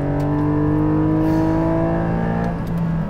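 A Honda Civic Type R Limited Edition engine drones at high revs on a race circuit, a loud, steady in-car roar with layered harmonics that hold and slowly drift in pitch, with no voices over it.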